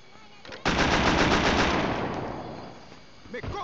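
Gunfire in the Scarface: The World Is Yours video game: a sudden loud burst of rapid automatic fire that fades into a decaying roar, with a voice at the end.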